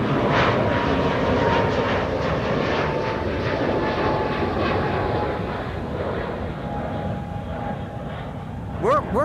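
Jet engines of a United Airlines airliner rumble loudly at Amsterdam Schiphol Airport as it moves, a broad, sustained roar that eases slightly and stays near, with no talk over it.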